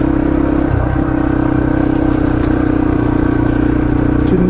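A Yamaha TT-R230 dirt bike on a trail at Windrock Park, its exhaust thumping in a loud, close, steady idle-to-mid rumble that carries throughout without speech.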